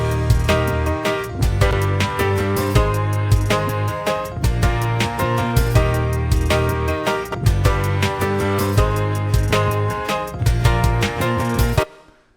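Full indie pop chorus without vocals: layered guitars panned wide, piano doubling with a bell part, bass and drums, playing dense and loud for about twelve seconds before stopping abruptly.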